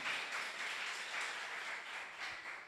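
Church congregation at a prophetic conference applauding, a broad, even roar of many hands clapping, steady and somewhat distant, swelling gently in waves.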